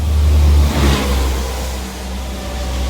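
An old car engine, left abandoned for 15 years and newly restarted, runs close by with a brief rev that settles into a steady low rumble. No one speaks.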